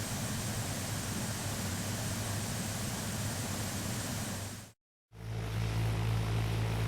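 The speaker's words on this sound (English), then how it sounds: "we'll climb into the smaller Cessna 172 SP Skyhawk" A Cessna 172 SP Skyhawk propeller airplane heard from inside or nearby, a loud steady engine drone with airy roar, broken by a sudden short silence before the drone resumes.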